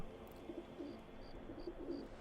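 Soft, repeated pigeon-like cooing from birds in the Skyrim game world, four or five low hoots spaced through steady ambient background, with no talk.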